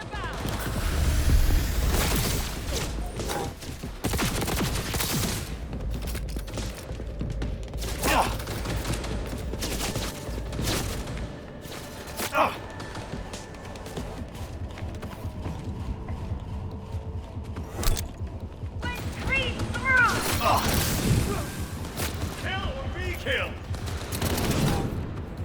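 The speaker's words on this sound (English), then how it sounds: "This is not the best gun in the game or not, Chad." Gunfire from an in-game weapon in Cyberpunk 2077 Phantom Liberty, with repeated bursts and single shots scattered through a busy mix of game sounds and effects, fairly loud, alongside occasional talk.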